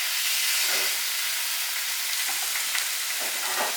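Tilapia fillets frying in a hot pan give a loud, steady, close sizzle that fills the whole stretch, with faint crackles rising and falling and no talking.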